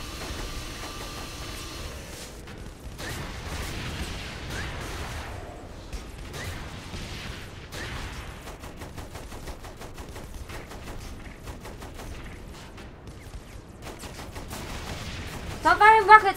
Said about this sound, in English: Stop firing rockets at me.